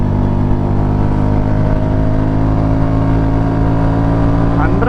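A 2026 Royal Enfield Bullet 350 motorcycle, modified, drones loudly and steadily at high speed on a ride, its exhaust note holding firm before climbing in pitch near the end.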